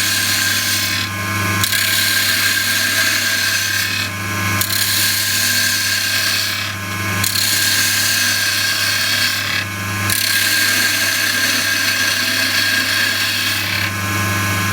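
Spindle turning on a wood lathe: a turning tool cuts the spinning wood as a steady, loud whir and scraping hiss. It holds continuously, with brief dips about every three seconds as the tool lifts, and no talking.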